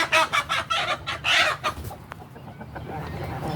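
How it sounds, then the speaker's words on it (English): Backyard roosters cluck in a quick, close series of bursts, which fade into quieter fowl sounds and background noise. "so naughty roosters."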